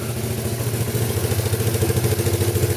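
A Yamaha Breeze ATV, once abandoned, idles with a steady pulsing low engine thrum and a light mechanical clatter, close and continuous.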